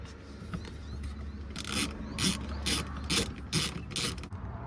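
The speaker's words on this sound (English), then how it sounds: "tighten them down with the T50 Torx bit" A hand ratchet drives seat bolts with a T50 Torx bit, giving a series of sharp, rhythmic clicking bursts up close, about six strokes in quick succession after a quieter start.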